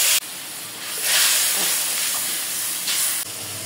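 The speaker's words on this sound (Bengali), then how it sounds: "একটু পানি দিয়ে দেব মশলাটা কষানোর জন্য।" Water poured into frying spice paste of ground cumin, coriander, garlic and dried chilli bursts into a loud, broad sizzling hiss that flares, holds steady, then cuts off abruptly near the end.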